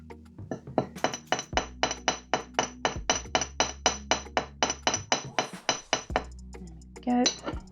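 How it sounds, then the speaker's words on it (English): A hammer strikes a wire pendant piece in a steady run of about twenty sharp metallic taps, close and evenly spaced, with a brief clink at the end. "we'll hammer that bottom piece again for strength"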